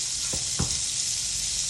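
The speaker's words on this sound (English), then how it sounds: "So I'm gonna melt a little butter here and just stir fry some quick vegetables." Butter sizzles steadily in a pan as green onions, garlic, Brussels sprouts, asparagus and cabbage are stir fried, with two brief scraping stirs near the start over the continuous hiss.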